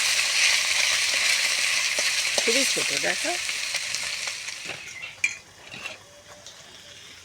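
Small fish drop one by one into hot oil in a wok for crisp frying, a bright steady sizzle with a sharp clatter near the end, while someone speaks briefly over it.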